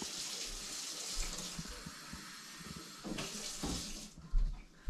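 Kitchen tap water, lukewarm, runs steadily into a small yeast mixture, a continuous close splashing stream that shifts briefly near the end.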